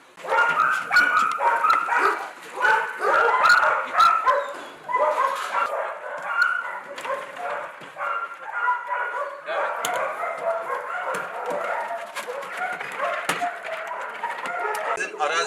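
Search and rescue dogs at a training workshop course bark, yip and whimper almost continuously, several animals close by in overlapping excited bursts, with people talking underneath and faint bird calls.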